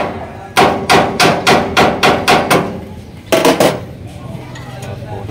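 Hammer striking a metal tricycle plug, a run of about eight evenly spaced loud clanking taps, then a pause and a quick burst of four more, ringing close and alone.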